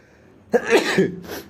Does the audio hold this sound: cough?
yes